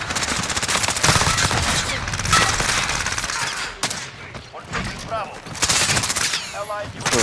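Rapid automatic gunfire from a CX-9 submachine gun in Call of Duty, loud and sustained in long bursts with brief pauses, mixed with dense in-game battle noise close up.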